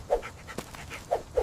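A dog named Max panting close by in quick, soft breaths, with a few faint whimpers between them and no talk over it.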